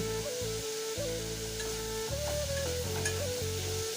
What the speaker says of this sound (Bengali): কেটে রাখা পেঁয়াজ দিয়ে দিয়ে দেবো একদম পরিমাণ মতন হলুদ আর দিয়ে দেবো পরিমাণ মতন নুন